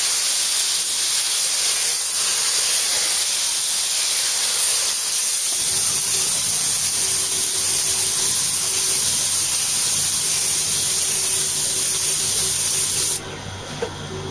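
A paint spray gun hisses steadily while respraying a Mk3 Ford Cortina classic car under restoration, a loud continuous airy spray that stays even with a low hum of equipment in the background and cuts off abruptly near the end.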